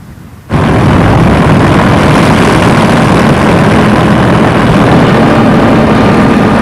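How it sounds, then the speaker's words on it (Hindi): A Luftwaffe warplane over Malta in 1941 drones loudly and steadily, a heavy propeller engine roar that starts abruptly and holds unbroken throughout. "जर्मनी की हवाई सेना लुफ्टवाफे ने माल्टा पर बमबारी की"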